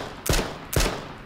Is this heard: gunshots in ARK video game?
yes